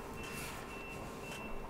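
Electronic beeping from a device in the horror video game Dead Space, a faint high steady tone over a low hum of ambient game noise, with a couple of soft brighter pulses and no speech.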